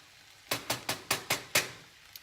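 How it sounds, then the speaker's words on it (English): Vegan shepherd's pie filling being stirred in a pan that is slightly too small, with six crisp, evenly spaced utensil knocks against the pan in a steady rhythm and no talking. "Give that a stir."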